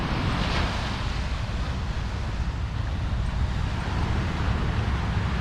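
Ocean surf at Flagler Beach, Florida, a steady, dense roar of breaking waves mixed with heavy wind buffeting the microphone. It runs unbroken and loud throughout, with no voices.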